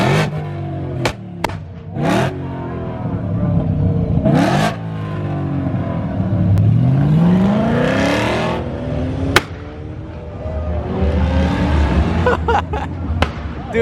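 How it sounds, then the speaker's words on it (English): BMW M3 at a car meet revs loudly in sharp bursts, the engine rising and falling through several surges close by, with crowd chatter and other cars in the background. "that M3 is so loud"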